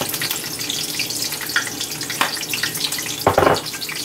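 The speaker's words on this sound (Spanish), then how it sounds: "Que luego el aceite brinca y luego lo quema uno" Kitchen sounds while cooking almonds, garlic and chiles for pipián: a steady hiss like running tap water or frying, with brief louder splashy bursts, close by and without talk.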